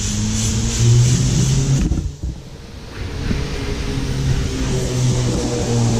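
A Porsche sports car passes outdoors, its engine roar building and then dropping away mid-stretch before steady traffic and wind noise continue at a moderate level.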